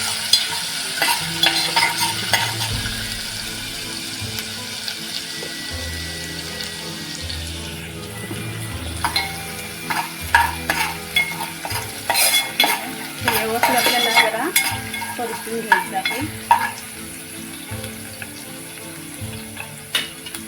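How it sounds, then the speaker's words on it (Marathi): Crushed garlic and ginger frying in hot oil for a prawn and okra curry, a steady sizzle with repeated scraping stirs and clinks of a spoon against the pan, close and fairly loud, with no talk. "तेल आता तापलेलं आहे त्याच्यामध्ये मी लसूण आणि आळ ठेसून टाकते हे थोडं आपल्याला परतून घ्यायचं"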